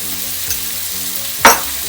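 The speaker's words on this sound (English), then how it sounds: "As soon as your butter's melted, hit it 1 tablespoon of flour." Flour hitting melted butter in a hot pan while making katsu curry roux: a loud, close steady sizzle with a brief sharp burst of hissing near the end as the flour goes in.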